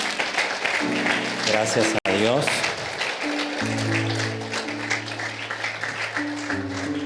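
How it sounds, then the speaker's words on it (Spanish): A church congregation applauds the Lord after a prayer, moderate clapping running beneath a man's speech and sustained tonal sounds, with a brief sharp dropout near the middle. "¿Por qué no le damos un aplauso al Señor"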